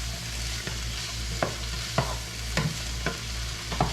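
Yakisoba noodles with soy sauce sizzle steadily in a frying pan while a utensil scrapes and stirs through them in irregular strokes, with no talk over the frying.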